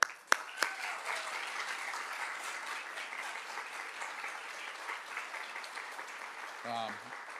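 An audience at a women's history breakfast applauds for Kay, steady moderate clapping from a room of people, with a voice speaking briefly near the end.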